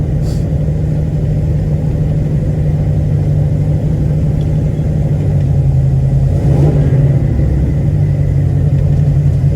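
A 1972 Chevrolet Nova rolls along and slows to pull over, its engine a loud, steady low rumble heard from close by, easing off slightly toward the end.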